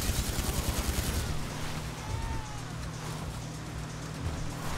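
Rapid gunfire crackles in Grand Theft Auto V, a dense burst of shots at the start fading into a steady low rumble of background noise, moderately loud with no talk.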